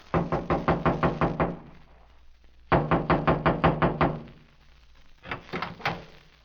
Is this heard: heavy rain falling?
no